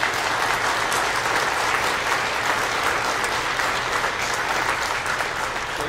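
A church congregation clapping during Mass to welcome a new pastor, loud and continuous applause from many hands, a steady dense patter filling the space for several seconds.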